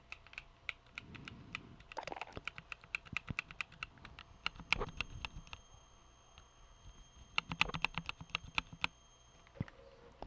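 Typing on a KBD67 Lite mechanical keyboard fitted with bubble-style Fox switches, a close, dense patter of sharp clicky keystrokes in bursts with short pauses, the sound standing alone.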